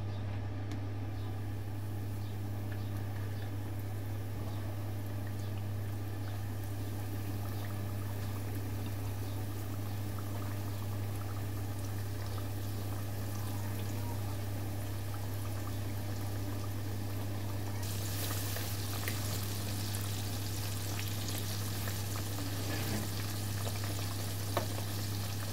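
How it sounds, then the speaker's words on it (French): Chicken tenders coated in flour fry in fairly hot oil, a long steady bubbling sizzle over a low mains hum that brightens and intensifies partway through. "je les fais cuire dans une huile"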